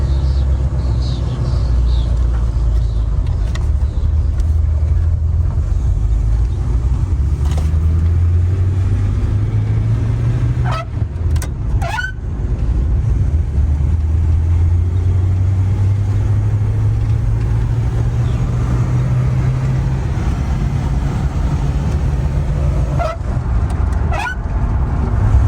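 A 1948 Packard, back on the road after sitting fifty years, cruising with a continuous low engine rumble and road drone, its pitch slowly rising and falling through gear changes, plus a few sharp clunks and rattles from the cabin.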